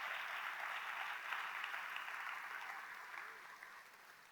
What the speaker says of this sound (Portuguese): Aplaude a Jesus mais forte.